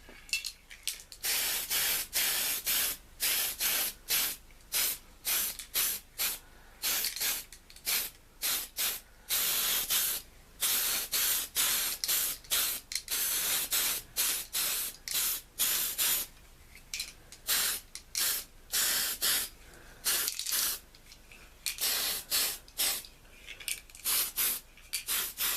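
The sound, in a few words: spray primer on F-15E model kit parts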